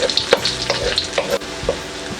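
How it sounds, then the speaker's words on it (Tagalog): Garlic sautéing in a hot pan for goat kaldereta, a steady close sizzle broken by a few sharp stirring scrapes, with no voices. "Ang una po natin na igigisa itong ating bawang"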